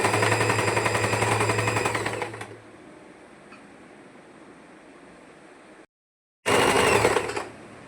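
Sewing machine stitching the neck of a pleated frock, a fast, loud, close mechanical rattle for about two seconds, then quiet hum, a brief silence, and another short burst of stitching.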